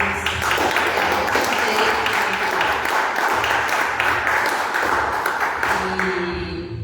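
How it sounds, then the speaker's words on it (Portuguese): A church congregation at a worship service claps for Jesus. Dense, continuous applause fills the room throughout, with a faint tonal hum beneath. "Uma salva de palmas para Jesus."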